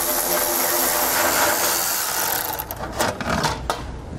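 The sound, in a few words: 10mm socket removing heat shield bolts on a car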